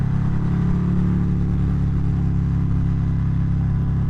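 A 2019 Harley-Davidson Fat Bob 117 Stage 3 with a Two Brothers exhaust rumbles loud and close, a deep, steady V-twin drone holding constant for about four seconds with no talk.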